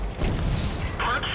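A tank shell strikes a Lorraine 40t in World of Tanks on the Dragons' Ridge map, giving a short, muffled low boom with a dull thud.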